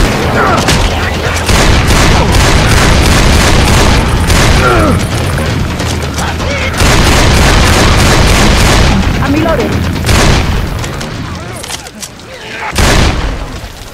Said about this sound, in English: I'm using a pipe bomb, I'm not risking this shit.